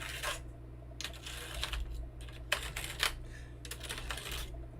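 A computer keyboard banged and shaken to push candy down inside it, giving bursts of rattling clacks in irregular clusters, close but fairly quiet, with no talking.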